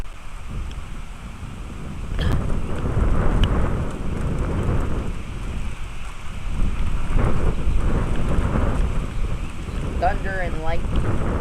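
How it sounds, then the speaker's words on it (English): Thunder rolls through a storm over Gettysburg, a broad low rumble rising and swelling amid wind buffeting the microphone and steady rain, with faint chirping near the end. "Thunder and lightning."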